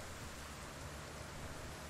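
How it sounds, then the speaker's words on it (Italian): Steady rain falling in the survival video game Project Zomboid, a soft, even hiss with no breaks, faint and alone. "Allora piove"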